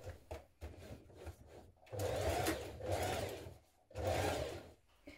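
A sewing machine stitches and back tacks a jeans inner leg seam in three sustained close runs of rapid whirring, separated by short pauses with softer handling noises before them.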